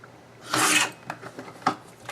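Paper for a mini album page is trimmed with a dry, rasping cut: one longer scrape, then a few lighter scratches and a short second stroke, close and quiet with no talk.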